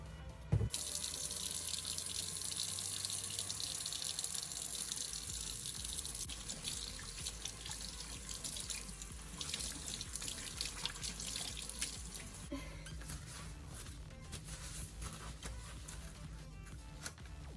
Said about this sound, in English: I put some more dish soap in it and kind of wash it off again.